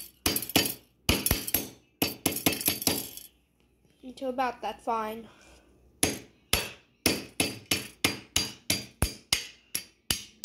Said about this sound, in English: I'm just going to crush it with a hammer.